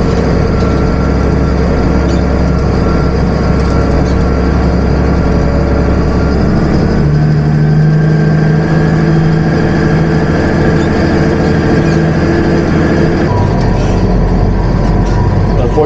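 A tractor pulls a Kelly Ryan rotary hoe across hay ground, a loud, steady low engine drone with rattling implement noise, holding constant throughout with a slight shift in pitch midway.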